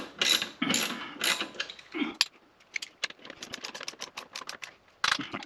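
Rapid metallic ratcheting and clicking bursts from a torque wrench tightening engine guard bolts on a KTM 1290 Super Adventure motorcycle, close and crisp, with a longer run of sharp clicks and short pauses between strokes.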